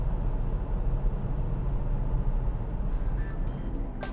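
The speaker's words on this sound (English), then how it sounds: "the engine tends to make this kind of humming noise when cold" Hyundai Kona 1.0 petrol engine humming while cold, heard from inside the cabin as a steady low drone under broad road noise, with faint clicks near the end.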